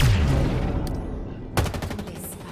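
Gunfire in the video game Halo Infinite: a rapid burst of shots at the start, a sharp crack, then a second quick volley, loud and close.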